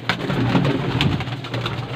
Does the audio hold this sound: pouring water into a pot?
no